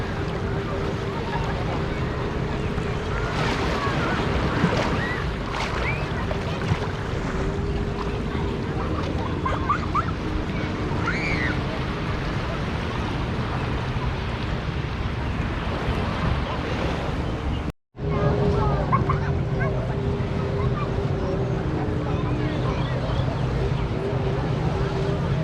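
Indian Ocean surf at Patong Beach, Phuket, washing steadily under heavy wind buffeting on the microphone, with a low continuous rumble that breaks off in a brief dropout near the end.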